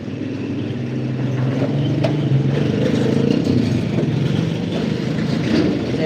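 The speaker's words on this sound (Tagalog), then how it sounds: "maingay yata yung sasakyan" A vehicle running nearby during a Sunday livestream, giving a steady, loud low engine rumble with faint clatter throughout and no clear talk.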